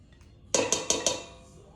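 Four quick metallic clinks of a utensil striking the side of a bowl while fruit is stirred with a cream and sugar mixture, evenly spaced and close, with quiet surroundings.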